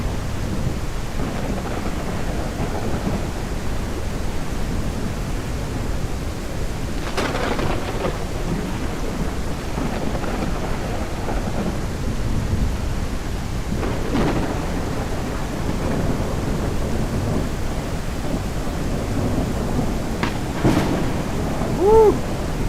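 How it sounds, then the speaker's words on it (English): Thunderstorm in the video game Ranch Simulator: steady loud rain hiss throughout, with several rumbling thunder cracks rolling in at intervals. "that thunderstorm is loud"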